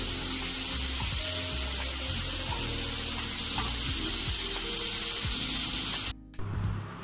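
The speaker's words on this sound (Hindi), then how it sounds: "तो चलिए इसे गोल्डन ब्राउन होने तक अच्छे से भून लेते हैं" Chopped onion frying in a pan for a vegetable dish, a dense constant sizzle and hiss with a low hum beneath, cutting off abruptly near the end.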